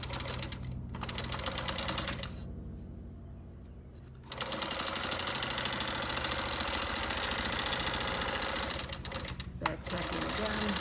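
An industrial sewing machine stitches a seam kit with back tacking, running steadily and loudly in long continuous bursts with a short pause midway and brief stops near the end, while a voice talks over the whirring.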